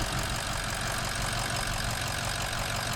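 A 2007 Ford 6.0 Powerstroke diesel idles steadily nearby, giving an even, continuous rumble with a dense clattering texture and no change in pace.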